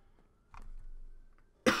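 A single short cough near the end, close and fairly loud after a near-silent stretch, with only a faint hum before it.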